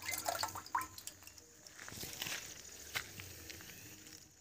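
Water scooped by hand from a stone tank, with a few sharp splashes and drips early on, then softer trickling and a scraping clatter, fairly close and with no talking.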